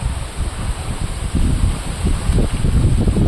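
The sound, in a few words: strong wind blowing at the seaside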